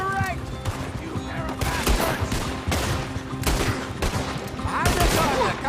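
Red Dead Redemption 2 shootout, a dense fusillade of gunshots cracking in rapid irregular bursts, loud and close, with voices talking between volleys.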